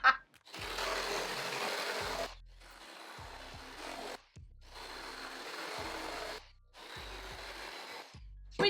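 Electric cutting tool sawing through wood for a rainbow wood side table, four long loud cutting bursts with short pauses between, motor whine and gritty rasp dropping away at each break.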